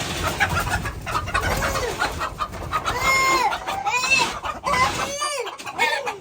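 Chickens in a farmyard cluck and squawk repeatedly at close range, busy overlapping calls with occasional louder cries, while people talk quietly in the background.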